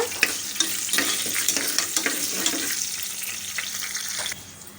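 Cashews, green chili and ginger being stirred in a hot pan, with a lively close sizzle and repeated spoon scrapes and clicks, the frying cutting off near the end.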